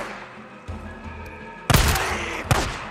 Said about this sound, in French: Ouvrez le feu !